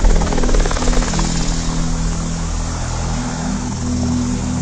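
Helicopter flying overhead, a loud steady rotor thump with engine drone that stays constant and close throughout, no voices.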